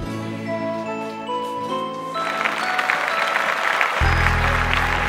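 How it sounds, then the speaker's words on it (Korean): Audience applause breaking out at the end of a Korean trot cover song, a broad clapping wash rising over the fading music and sustained musical tones, moderately loud and continuous. "박수 한번 주세요."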